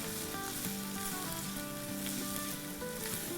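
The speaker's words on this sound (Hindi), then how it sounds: "उसमें हम डालेंगे आधा कप चॉप की हुई प्याज, ऑमलेट कट टाइप की, थोड़ी सी बड़ी। इसको हम सौटे करेंगे।" Chopped onions, cut into largish omelette-style pieces, sauté in about two tablespoons of oil with a steady, dense sizzle and faint background tones, close and continuous, with no talking.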